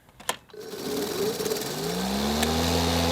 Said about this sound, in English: you have to pull this handle back to get the blades to start spinning